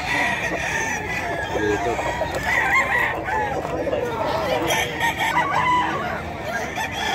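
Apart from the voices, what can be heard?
rooster crowing at a chicken market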